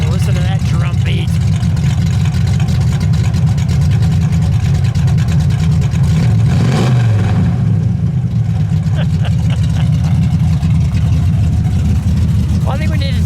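A 1969 Dodge Dart GTS with a 340 V8 runs steadily close by, its deep, loud rumble continuous throughout with a brief swell near the middle, and people speaking faintly over it.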